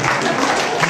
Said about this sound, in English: And then clapping as well.